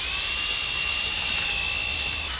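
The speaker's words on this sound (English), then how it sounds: "people came up with ways to make electric motors and attach them to the spinning drill bit" An electric drill spins its bit with a high, steady whine that holds a constant pitch throughout, loud and close, with no voices over it.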